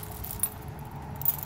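A set of keys jangles briefly near a custom-built bicycle trailer, with a couple of light metallic clinks over a quiet outdoor background.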